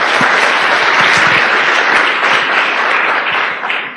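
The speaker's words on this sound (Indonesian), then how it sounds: "Aplaus buat Anda semuanya lah." An audience at an Indonesian networking seminar bursts into sustained, dense applause close by, a steady wash of many clapping hands that fades slightly toward the end.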